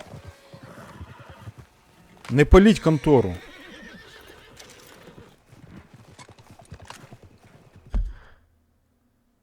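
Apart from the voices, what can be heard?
horses neighing in a video game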